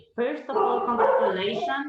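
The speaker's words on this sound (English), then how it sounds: "Sorry about my dog." Dog barking and whining in a home during an online investor forum, a single drawn-out whimpering bark close by that overlaps with someone speaking.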